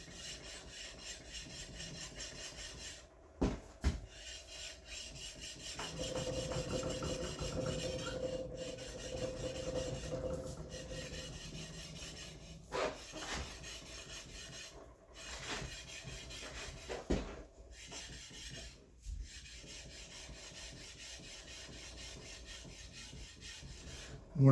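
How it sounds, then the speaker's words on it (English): Soft, steady rubbing of a sharpening stone honing a planer knife edge by hand in a workshop, faint and close with scattered clicks and knocks between strokes. "What it's doing is it's honing the edge at a slightly different angle."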